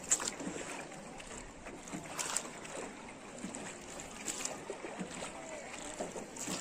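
A rowboat is paddled across the lake at Ninh Binh, Vietnam, with soft, irregular splashes and dips of the oars in the water over light wind noise, fairly quiet and close.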